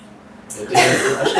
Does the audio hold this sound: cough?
yes